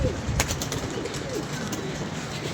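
A pigeon coos softly a few times amid light background noise, with a couple of sharp taps near the start.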